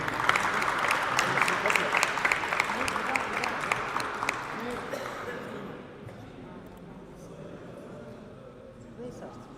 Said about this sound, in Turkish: Yürekten onu kutluyoruz. Bir alkışla Gülden Hanım'a.